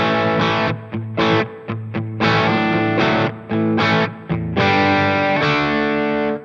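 Distorted, dirty electric bass played through a Sonicake Matribox 2 with stereo reverb, a run of loud sustained notes and short stabs, each trailing a wet reverb tail, with no talk.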